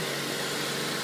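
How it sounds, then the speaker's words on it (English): The 2.3-liter engine of a 2007 Mazda 3 hatchback runs during an engine test, a steady, close, uniform hum and hiss throughout the short clip. "engine test"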